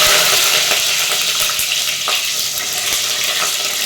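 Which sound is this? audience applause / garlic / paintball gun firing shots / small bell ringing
garlic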